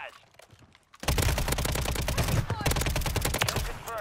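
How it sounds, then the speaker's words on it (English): Rapid automatic fire from the MCW rifle in Call of Duty on Rebirth Island, a dense burst of shots after a brief quieter lead-in, loud and close, continuing for several seconds. "That is insane how many times I just shot that guy."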